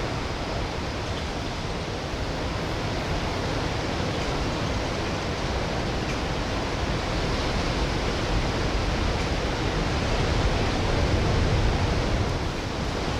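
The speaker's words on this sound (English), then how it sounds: "Let's listen to the waves for 15 seconds because screw it." Ocean surf breaking on a shore in El Salvador makes a steady, loud, broadband roar that barely varies across the whole stretch, with no voices.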